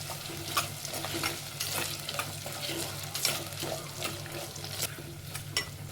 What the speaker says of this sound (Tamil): சின்ன வெங்காயம் சேர்க்குறேன் முழுசாக தான் சேர்க்குறேன் அப்படியே சேர்த்து எண்ணெயில் வதக்கிக்கும்